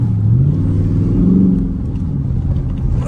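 Engines rumble and rev steadily at a car meet of Dodge Hellcats and Jeep Trackhawks, loud and close, with a sustained low roar rising and falling.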